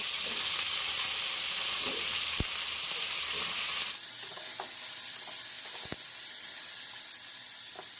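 Cauliflower frying in a pan gives a bright, steady sizzle with a few sharp spatula knocks. Halfway through, the hiss drops abruptly to a quieter level and keeps going.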